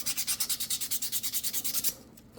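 320 grit sandpaper rubbed by hand over a dyed miniature figure, about twenty quick, even back-and-forth scratchy strokes close up, then stopping abruptly into near quiet.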